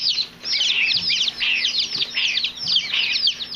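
Young turkey poults chirp inside a hatchery shipment box, a busy overlapping chorus of high, rapid peeps that continues without pause at close range.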